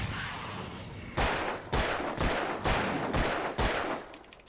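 Gunfire from the video game Alan Wake: six loud, evenly spaced shots ring out close by, roughly one every half second, each with a sharp crack and short decay over a steady low background rumble.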